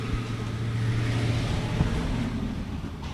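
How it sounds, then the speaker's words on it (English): A truck passes by outdoors, a broad engine rumble with a steady low tone that swells and fades over about three seconds, moderately distant, with no talking. "Truck."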